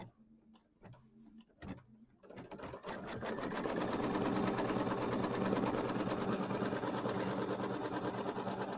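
An embroidery sewing machine stitches the fabric tack-down on a Kimberbell mini quilt in the hoop, starting with a few quiet clicks, then settling into a steady, close, continuous fast whir of stitching.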